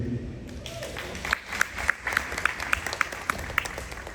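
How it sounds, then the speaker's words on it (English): An audience applauds at a school ring ceremony, a dense round of clapping with sharp individual claps and crowd noise throughout. "I want to give her a big round of applause."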